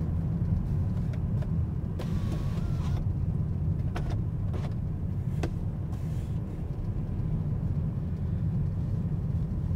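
Cars drive along a tree-lined street in Elbasan, Albania, heard from inside a moving car. A continuous low road and engine rumble runs throughout, with a few sharp passing-vehicle swells and brief clicks.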